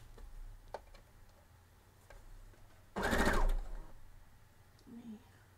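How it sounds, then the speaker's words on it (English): A sewing machine runs a stitch on quilt fabric for a checkerboard quilt in one short, dense burst of needle rattle, with quiet room ticks and faint handling before and after. "You can watch me run that stitch."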